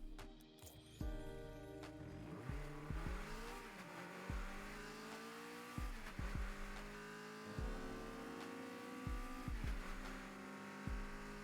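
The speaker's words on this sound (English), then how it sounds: "let's take a listen to the engine sound" The Takumi car's engine in the video game Rocket League revs up and down repeatedly, rising whines with sharp gear-shift drops and brief tire-squeal tones, steady and close with no talking.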